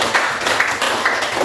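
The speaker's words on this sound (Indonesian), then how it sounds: "ya tepuk tangan dulu" A primary school classroom in Indonesia claps hands together in an evenly spaced, rhythmic pattern of loud, close bursts, a few beats in quick succession.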